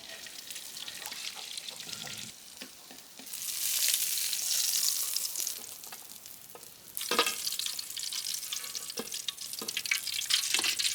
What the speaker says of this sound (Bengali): এখন আমি এই মরিচগুলা ভাইজে নিব। ইলিশ মাছের পাশে দিয়ে ভাইজে নিলে একটু ইলিশ